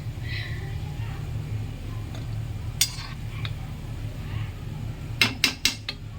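Frying palm fritters (taler bora) being stirred in a pan: a steady low sizzle runs throughout, broken by a few sharp metallic clinks of a utensil against the pan, clustered near the end.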